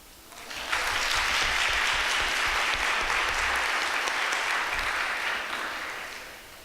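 A full room at a Newark Public Schools Advisory Board meeting breaks into loud, dense applause that swells quickly, holds at an even roar for several seconds, then tapers off near the end.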